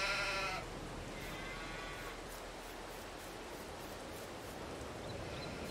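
A baby sheep bleats in the Farming Simulator video game, a short wavering cry near the start, followed by a steady ambient farm hiss with faint soft bleating sounds in the background.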